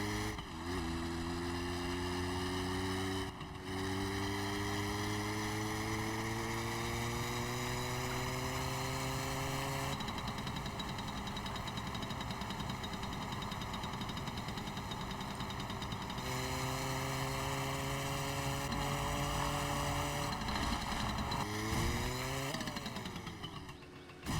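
A car engine in the driving game My Summer Car drones loudly and continuously, its pitch rising steadily as the throttle is held, dropping back at gear changes, then climbing again, with no talking over it.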